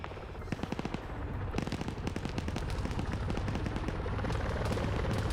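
Rapid bursts of automatic gunfire crackle through a Wargames PvP video game battle, dense repeated shots overlapping in loud, fast rhythmic volleys with a continuous rumbling bed beneath them and no talk.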